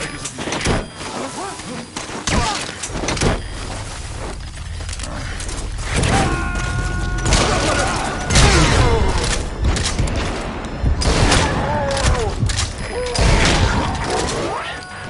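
Covering gunfire in the Metal Gear Solid video game, a loud, dense run of shots, thuds and mechanical clatter lasting the whole stretch, with voices at times underneath.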